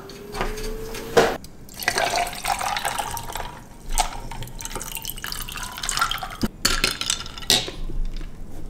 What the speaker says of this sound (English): I'm attempting to make one of those aesthetic drink pour videos.